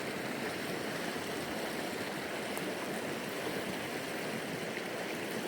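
Steady broadband rush of a creek flowing beside a Colorado campsite, continuous and fairly close, with no voices or other noises over it.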